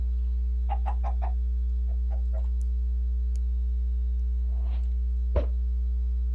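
Chicken in modded Minecraft gives a few short clucks and chirps, faint over a loud steady hum, with a later brief rustle and a sharp knock.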